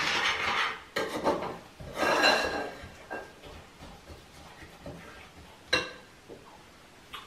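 A spoon scrapes and rubs around a bowl, mixing nut tart batter made with eggs in irregular rasping strokes, close and clear, with a few sharper clinks against the bowl and no talking.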